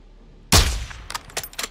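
A single loud sniper rifle shot from Call of Duty: Modern Warfare 2 cracks out with a booming tail, followed by a few fainter distant shots.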